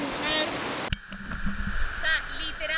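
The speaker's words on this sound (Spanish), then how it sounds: "literalmente estoy en medio de la caída de la cascada" A waterfall at Roberto Barrios in Chiapas roars as a loud broadband rush for about a second, then cuts off and people talk over faint background noise.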